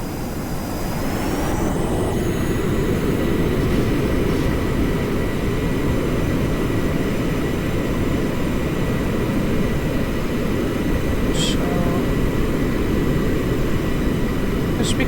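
A cumbersome plane in Kerbal Space Program accelerates down the whole runway, its engine building to a loud, dense continuous roar that holds steady after the first couple of seconds.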